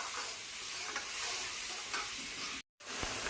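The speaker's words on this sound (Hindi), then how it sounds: "अब इसे मैं भून लूँगी मसाले को अच्छे से।" Masala gravy sautés in a kadhai with ghee, producing a steady close sizzle with stirring scrapes throughout, broken by a brief silent gap near the end.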